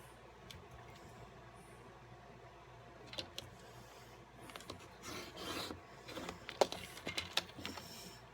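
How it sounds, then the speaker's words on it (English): Scissors or a trimmer cutting a thin paper strip for a handmade Christmas snowman card, faint close snips and rustling that grow busier toward the end in a quiet room. "Let me just cut this first."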